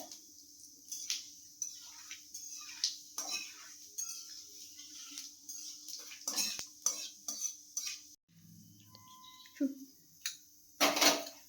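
Nigella seeds (kalo jeera) fry in a pan for a hyacinth bean chutney, a faint sizzle broken by repeated loud scrapes and clinks of a utensil stirring against the pan.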